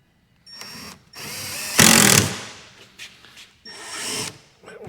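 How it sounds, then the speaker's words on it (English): A power drill whirs in several short bursts, driving a screw into a wooden beehive with rising and falling pitch, one louder burst in the middle, close by. "Go ahead and drill it in."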